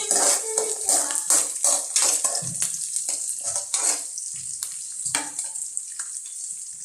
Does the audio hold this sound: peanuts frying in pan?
yes